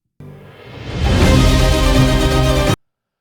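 A dramatic instrumental music track plays loud and full, fading in briefly before swelling into sustained layered instruments, then cutting off abruptly.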